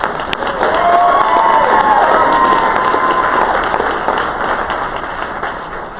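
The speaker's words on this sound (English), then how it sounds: "Round of applause for that." Audience at the DSAIA 2019 opening session breaks into loud, sustained cheering and applause, a dense crowd roar with whoops that holds for several seconds before slowly thinning.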